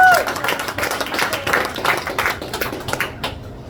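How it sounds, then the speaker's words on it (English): Audience applause and clapping in a comedy club after a headlining stand-up set, a dense patter of many hands that holds steady and fades slightly toward the end. "Give yourselves a round of applause."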